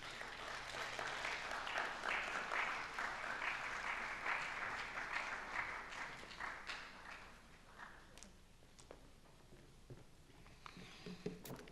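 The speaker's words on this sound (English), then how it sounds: "So, a round of applause." An audience claps for a speaker taking the stage at an architecture talk, a dense round of applause that swells early, then thins and fades toward the end with a few scattered claps.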